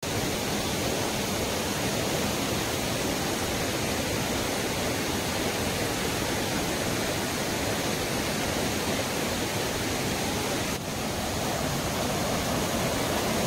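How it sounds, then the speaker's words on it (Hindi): Waterfall in the Himachal Pradesh mountains, a steady, dense roar of falling water that holds constant and close throughout, with no voices. "आप झरना देखो, माहौल देखो, यहाँ पे सुपर व्यू है, पानी झरना बह रहा है"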